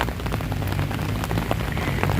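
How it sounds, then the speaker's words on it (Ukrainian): Steady rain falls outdoors during a walk in Berlin, a dense even patter of drops on surfaces, close and continuous throughout with no talking. "І прогуляюсь під дощем."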